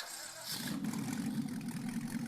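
A buggy car engine in the video game Lumberjack's Dynasty starts up with a short burst, then settles into a steady, loud buzzing idle rumble.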